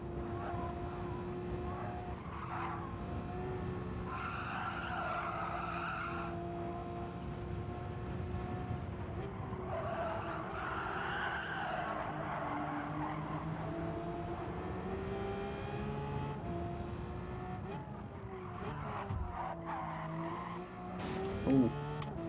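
A pack of race cars in Gran Turismo 7 runs close together, engines droning continuously with rising and falling pitch, occasional tyre squeal and a brief bump near the end, no voices.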